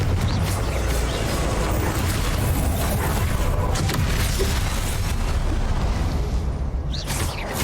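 A Confringo explosion spell in Hogwarts Legacy fires during a boss fight. It makes a loud, sustained booming blast with dense rumbling that fills the whole stretch and then tails off near the end.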